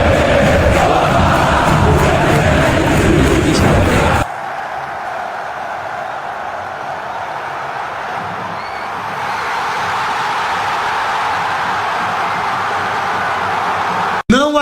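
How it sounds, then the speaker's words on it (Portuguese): Flamengo football supporters fill a stadium with a loud, dense roar of massed voices, a continuous wall of crowd sound that drops slightly in intensity partway through before swelling again. "a torcida do Flamengo canta aí"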